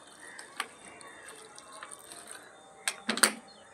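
Collected rice-rinsing and dal-rinsing water poured onto a plant before planting, heard as a few faint splashes and drips, then a brief louder burst of pouring near the end.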